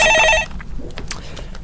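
A telephone bell rings loudly with a rapid electronic trill for about half a second, then stops, leaving quiet room noise and faint movement.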